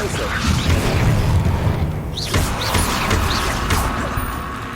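A Levioso levitation spell cast in the video game Hogwarts Legacy, heard as a sharp crash and whooshing burst midway through a dense, constant roar of game noise.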